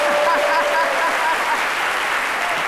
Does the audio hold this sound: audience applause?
yes